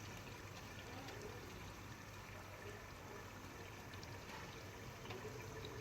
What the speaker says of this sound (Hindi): और थोड़ा सा इसमें पानी ऐड करते हैं इस तरह से।